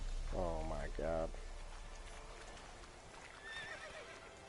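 A horse in The Witcher 3 video game lets out one loud, close neigh in two rising and falling bursts near the start. Softer ambient game sound with light patter follows.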